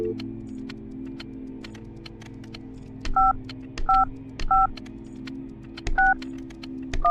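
Telephone dialing tones in a video game: a series of short paired DTMF beeps, one after another, over a low steady background hum.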